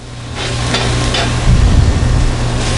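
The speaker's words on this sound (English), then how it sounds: "Let's sear up this swordfish. Get a nice sizzle on it here." Steady broadband sizzling of swordfish searing in hot oil with fresh garlic, loud and close, with low rumbling and a few clatters in the pan.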